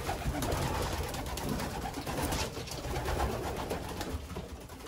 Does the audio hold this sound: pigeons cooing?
yes